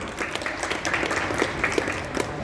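An audience at a book fair lecture claps steadily for a couple of seconds, a moderate, even patter of many hands heard alone.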